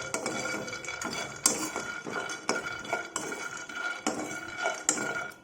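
Peanuts dry-roasting in a metal pan, stirred so they rattle and clatter in irregular bursts of sharp clinks and scrapes against the pan, close and fairly loud, with no voices.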